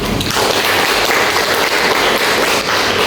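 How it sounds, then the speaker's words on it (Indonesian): A classroom of students claps for a classmate, dense continuous applause filling the room steadily for several seconds without speech. "Aplaus dulu teman kita."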